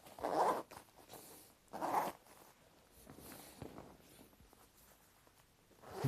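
The waterproof zipper on a Kathmandu Ridge Gore-Tex 3L jacket is pulled in two quick rasping strokes, then fainter fabric rustles follow and a third zip starts at the end.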